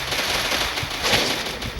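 Gunfire in the video game Free Fire during a 4v4 match: a quick burst of rapid automatic shots, loud and close, with no talk over it.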